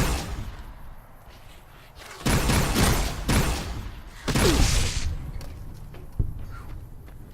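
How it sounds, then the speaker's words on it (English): Gunshots in Fallout: New Vegas, a few loud, separated shots with booming tails spaced across a few seconds, over quiet game ambience. "7 shots before reload is a..."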